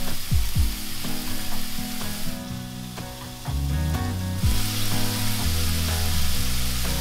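Diced onion and cumin fry in olive oil in a skillet over medium heat. A close, steady sizzle carries intermittent spoon taps and stirring scrapes, easing briefly in the middle before resuming.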